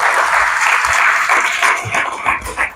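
Applause from an audience at a mental health conference lecture in Saint-Etienne, brisk and fairly close, thinning out toward the end into a few scattered claps.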